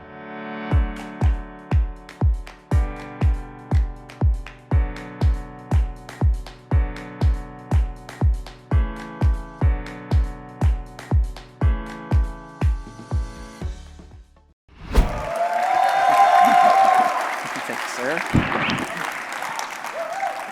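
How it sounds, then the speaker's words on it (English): Warm applause from a conference audience as the speaker Roland Frasier takes the stage, a steady wash of clapping that swells in after rhythmic music, loud and sustained for several seconds. "Give an incredible warm round of applause to Mr."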